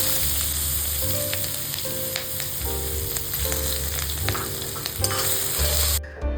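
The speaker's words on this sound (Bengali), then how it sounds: "আদা এবং কাঁচা লঙ্কাটা তেলের ওপরে দশ থেকে বারো সেকেন্ড নেড়ে নেওয়ার পরে" Grated ginger and torn green chilies sizzle in hot oil as a utensil stirs them repeatedly, giving a steady bright frying hiss with rhythmic scraping strokes, close and loud, ending abruptly.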